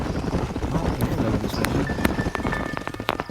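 Horses gallop in Red Dead Redemption, a steady rapid clatter of hooves running throughout at moderate distance, with faint sharp clicks and a thin tone toward the end.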